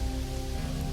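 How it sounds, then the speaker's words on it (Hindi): Steady rain falling for a horror story, a dense close hiss of drops with a low rumbling undertone, unbroken and fairly loud for the whole second. "अब बस बारिश की लगातार गिरती बूंदों की आवाज रह गई थी।"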